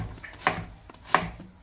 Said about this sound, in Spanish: Cortamos ajo y pimiento verde.